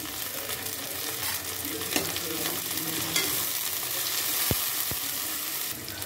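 Spices frying in a pan for chicken curry, with mint going in, give a continuous close sizzle with stirring scrapes and a couple of sharp utensil taps near the end, and no one speaking.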